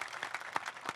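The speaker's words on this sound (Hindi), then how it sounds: "जोरदार तालियां बजा करके इनका स्वागत किया जाए।" Brief burst of audience applause at a 77th Independence Day poetry event, a short ripple of scattered claps from a crowd.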